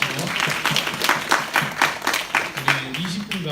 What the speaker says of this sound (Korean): 자, 우리 힘차게 박수 하시고